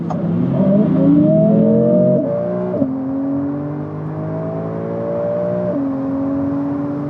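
A Porsche 992 and an Audi R8 accelerate hard from 70 km/h on a ring road, the engine climbing steadily through several gear changes, loud and close.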